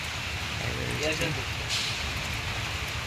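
Light rain patters steadily outside, a soft diffuse hiss with faint drips, while a person speaks over it.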